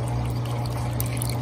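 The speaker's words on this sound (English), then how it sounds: "you pour the water into the cups" Water pours steadily from a plastic cup onto an aquarium plant, a continuous close splashing gush with a low droning hum beneath, no pauses or voices.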